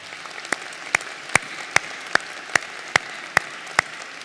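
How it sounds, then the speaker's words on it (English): Commencement ceremony audience giving a round of applause, heard as a sparse, distant patter with about nine sharp, evenly spaced claps standing out above faint background noise. "Please, can we give them a round of applause?"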